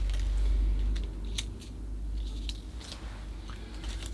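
Scissors snip leaves from a tropical Ficus religiosa bonsai during fall leaf pruning. Several soft, scattered snips sound close over a steady low background hum.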